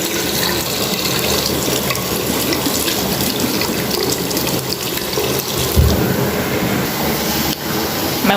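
A bath tap runs hard into a tub being filled for a bubble bath, a loud continuous splashing rush of water that stays steady throughout with no one talking.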